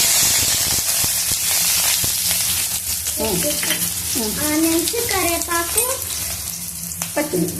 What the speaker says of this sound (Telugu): ఇప్పుడు ఆనియన్స్, కరివేపాకు,